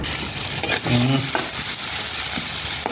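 Onions fry in mustard oil in a pan with a continuous close sizzle, plus a few scraping stirs and a brief tonal clink near the middle and no voices.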